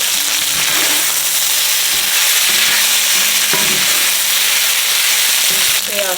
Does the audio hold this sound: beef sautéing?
yes